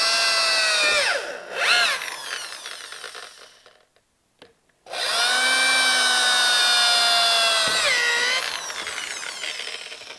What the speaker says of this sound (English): The next thing I got to do is I have to drill all the holes.